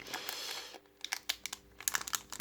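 A Pokémon Alliances Affaiblie booster pack wrapper being torn open, a burst of crinkling foil followed by several sharp, close tearing rips, with no talking.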